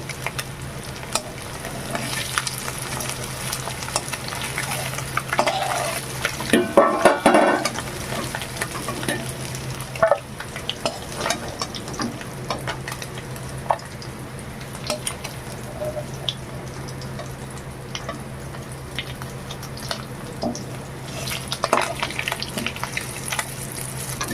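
Whole fish sizzling as they fry in oil in a pan, a steady crackling hiss with stirring and scraping throughout, and a louder burst of sizzle partway through.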